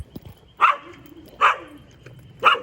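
A dog barks three times at a pool heater service call, sharp, close barks spaced about a second apart with quiet gaps between them.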